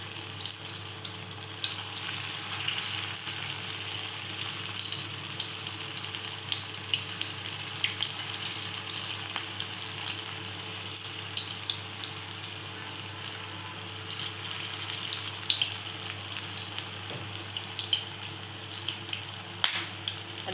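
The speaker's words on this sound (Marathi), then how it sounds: "त्यात सोडूया ते फ्राय करायला." Potato and poha cutlets fry in hot oil over medium heat, giving off a steady, close sizzle with fine crackling that continues evenly throughout without any talk.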